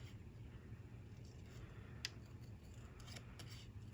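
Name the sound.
scissors cutting cardstock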